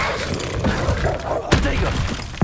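An Incendio fire spell is cast in Hogwarts Legacy, producing a sharp crackling whoosh with thudding, shattering impacts over a busy game soundscape and faint voices.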